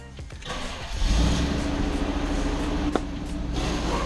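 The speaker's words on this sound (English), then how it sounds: "You want to start the engine for just a moment to get the oil running through the entire system." A car engine cranks and catches around the one-second mark just after an oil change, then settles into a steady, fairly close idle with a faint click near the end.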